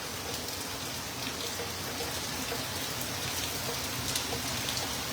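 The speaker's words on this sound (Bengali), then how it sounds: "আর যেহেতু বৃষ্টি, ভারী বৃষ্টি হচ্ছে" Heavy rain pouring onto a New York street with water running along both curbs, a dense, steady hiss of falling drops that stays even and continuous throughout.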